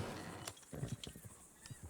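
Horse hooves in the video game Red Dead Redemption 2 clop in a quick, uneven rhythm at moderate distance, with soft game ambience around them and no clear talk.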